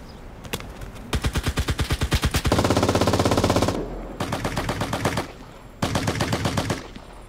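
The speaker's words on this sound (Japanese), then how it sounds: "え、撃ってる、どこ撃ってんの。" Rapid automatic gunfire from the battle-royale shooter Cuisine Royale, with a quick string of sharp shots followed by several sustained loud bursts separated by short pauses.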